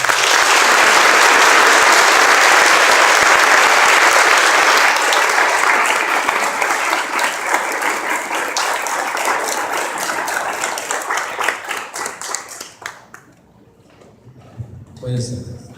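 A church congregation gives the Lord a loud, sustained round of applause, dense clapping that holds steady for several seconds before thinning out and fading into near silence.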